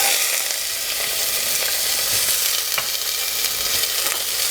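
Carrots, celery, pearl onions and green beans sizzling in olive oil in a preheated soup pot, a dense, steady hiss of frying with occasional crackles and small pops, close and continuous.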